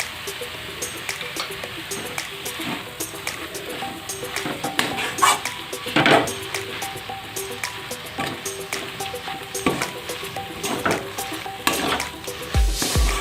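Flat beans and rohu fish are stirred and fried in a pan, giving a steady close sizzle with repeated scraping strokes of a spoon against the pan throughout, with no talking.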